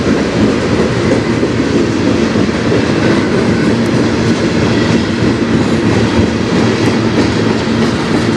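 A train on the Strathroy Subdivision rumbles steadily along the tracks, loud and close, with a continuous clattering roll and no voices.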